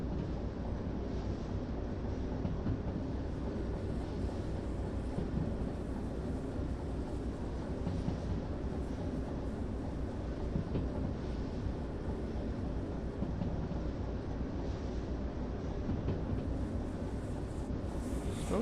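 Locomotive rumbling steadily along the track in the VR train game Derail Valley, a continuous loud low drone with rattling texture and no speech.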